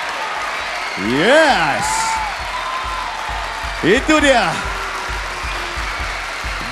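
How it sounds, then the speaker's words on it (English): A crowd claps and cheers steadily at a dance competition show, with an excited voice shouting over the applause in two bursts. "The crowd is still going wild."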